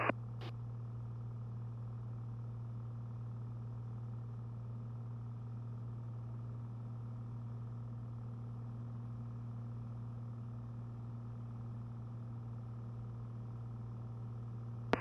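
Steady drone of a Cessna Skylane light aircraft engine at climb power, heard from inside the cockpit as a constant, unbroken low hum for the whole stretch with no talk.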